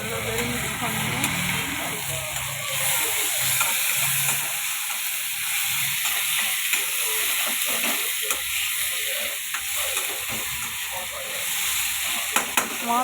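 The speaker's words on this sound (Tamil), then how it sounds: "இப்போ டொமேட்டோவை இதில் ஜாயின் பண்ணணும். நல்லா வெரி மிக்ஸ் பண்ணணும்." Chopped tomatoes frying and being stirred in a hot pan, a dense continuous sizzle with soft scraping strokes, while a person talks over it and a faint engine-like hum sits underneath.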